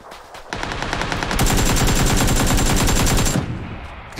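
Rapid automatic gunfire rings out in the shooter game PUBG, a loud close burst of rattling shots that picks up and sustains for a couple of seconds, then cuts off.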